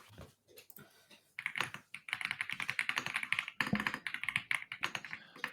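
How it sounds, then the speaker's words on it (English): A computer keyboard clatters under fast, continuous typing during a live stream, with dense rapid key taps close to the microphone after a brief pause at the start. "I should probably look at getting a slightly quieter keyboard for streaming."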